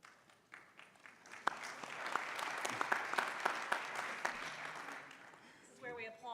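Applause rises from a group at a bar association annual meeting, starting sparse with a few distinct claps, then thickening into steady clapping before fading as a voice begins speaking at the end.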